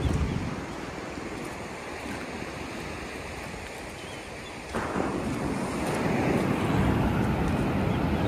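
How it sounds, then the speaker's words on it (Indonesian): Sea waves wash onto a coral-stone beach on the southern coast, a steady broadband surf roar that swells louder partway through as water rushes in, with some wind noise on the microphone. "air ombak"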